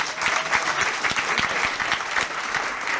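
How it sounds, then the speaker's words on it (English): Audience applause at a live investor summit held at sea, a steady wash of clapping from a crowd that holds evenly for about three seconds with no speech over it. "just a round of applause"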